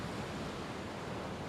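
Steady binaural ocean surf rolls on without pause, a broad, even wash of breaking waves that fills the whole clip with constant hiss and low rumble.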